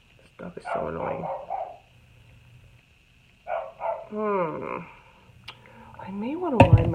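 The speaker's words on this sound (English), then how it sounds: "This dog is so annoying." A dog barks and growls in short bursts at close range, with whimpering yelps near the end, heard between stretches of quiet indoor room sound.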